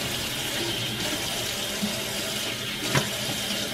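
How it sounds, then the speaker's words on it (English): Kitchen tap running steadily into a sink, a constant close hiss and splash with a few small clinks, no voices. "Wait till you turn the water off so they can hear you."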